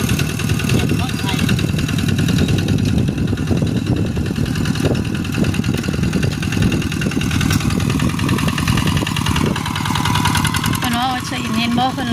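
A tractor engine runs steadily at close range throughout, a continuous mid-pitched mechanical drone with some rattling, and people talk over it.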